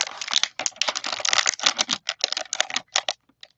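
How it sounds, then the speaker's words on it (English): Stiff plastic packaging crinkles and rustles in quick irregular bursts at a card-making desk with photopolymer stamps, close and fairly loud, fading to a few scattered crackles at the end. "Oh, sorry for the crinkling."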